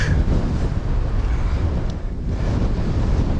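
Strong wind gusts buffet the microphone while cycling, a loud rough roar of low rumble that surges and dips unevenly across the few seconds.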